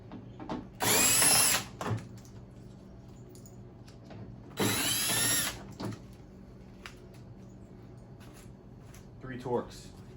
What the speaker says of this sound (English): And we're gonna get these Torx out of here